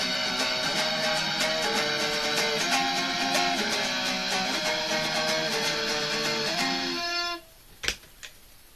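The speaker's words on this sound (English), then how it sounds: "And that was with a flanger because I have a flanger pedal," An electric guitar plays a run of distorted power chords through a flanger pedal, the sweeping, swirling tone held steady for several seconds before the chord cuts off, followed by a couple of faint knocks.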